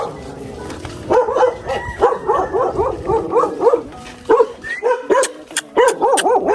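A dog barks repeatedly in quick, rhythmic bursts, fairly close and loud, with some outdoor background noise between the barks.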